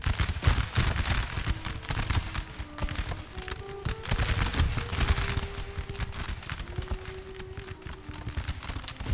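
In the video game Napoleon Total War, an Ottoman battle gives off constant crackling volleys of musket fire and booms of canister artillery. The dense, uneven gunfire runs throughout, mixed with distant battlefield rumble and no talk.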